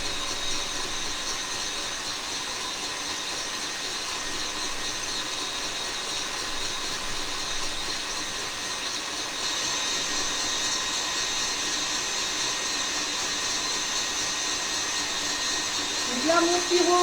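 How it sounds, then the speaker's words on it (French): A stand mixer whirs steadily while beating macaron batter, a smooth continuous motor hum that is fairly loud and close, shifting slightly in pitch partway through, with a faint clink near the end. "c'est le robot qui va macaronner pour nous"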